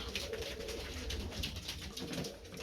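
In a chilly winter loft, male pigeons keep up a steady chorus of low rolling coos, several birds overlapping near at hand without any talk.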